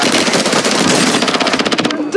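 A loud, rapid burst of automatic gunfire from the video game Warzone 2.0, close and continuous for about two seconds, with a voice under it.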